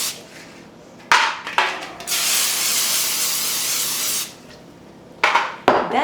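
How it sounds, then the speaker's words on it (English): Cooking spray bursts from a can onto pie tins in a long, loud hiss of about two seconds, framed by shorter spritzes and clattering taps of the tins, close and without talk. "So all you do to your pie tins right here, spray them."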